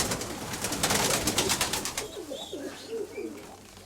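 A pair of pigeons in a loft cooing close by, soft repeated throaty coos after a burst of brief flapping or rustling at the start.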